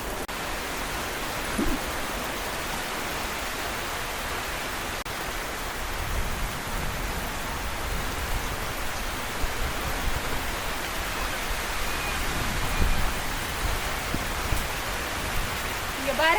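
Heavy rain pours down steadily outdoors near coconut palms, a dense, even wash of noise filling the whole stretch, with occasional faint voices beneath.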